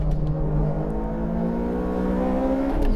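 A Honda VTEC race car accelerating on a dry track, a loud continuous engine note climbing steadily in pitch as the revs build, heard near and alone.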